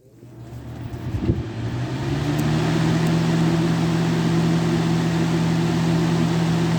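A 1999-2000 Lasko Ultra model 3750 fan on its high setting, spinning up from a start into a loud, steady, even whoosh with a constant low hum and no talking.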